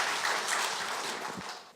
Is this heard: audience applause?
yes